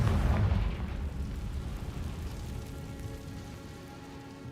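A Confringo blasting spell from Hogwarts Legacy bursts with a loud, broad explosive rumble at the start, then decays into a long crackling, rain-like rustle that fades over several seconds with no voices.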